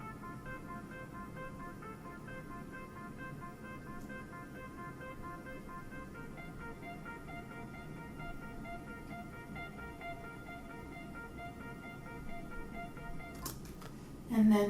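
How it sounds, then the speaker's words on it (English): Synth pad sampled in Ableton and run through an arpeggiator, a steady layered tone with repeating stacked notes at even level, ending in a short burst of louder noise. "And this one's basically the same thing, but with an arpeggiator."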